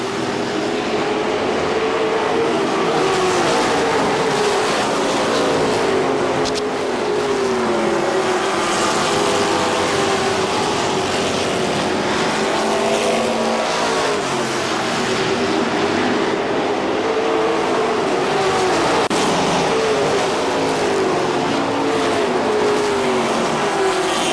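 Race cars circling a dirt oval at KilKare Speedway during an evening race, a continuous loud roar of engines with rising and falling pitch as the cars pass, steady throughout with no pauses.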